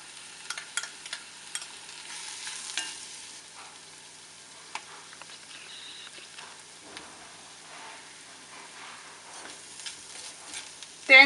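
Chicken and grated coconut stir-roasting in a pan for chicken thoran, a soft steady sizzle with light scraping stirs, fairly quiet, ending in a brief louder clatter.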